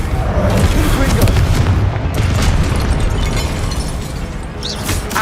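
Confringo spells fire off in the Hogwarts Legacy video game during combat: loud, dense booming blasts with bursts and pops layered over a busy, continuous mix of game noise and voices.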